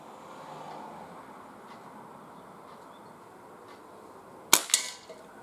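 A Crosman 2300T CO2 air pistol fires outdoors at cans, with a single sharp crack followed by a quick secondary pop after quiet ambient background, and no one speaking.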